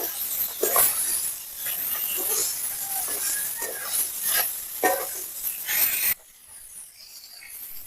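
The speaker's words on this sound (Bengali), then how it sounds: "মাছগুলো আমি এখানে ভালো করে ভেজে নিচ্ছি" Rohu fish pieces frying in oil in a pan, a bright continuous hiss and sizzle with intermittent spatula scrapes, cutting off abruptly near the end to a quiet room.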